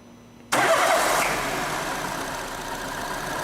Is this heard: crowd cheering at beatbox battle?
no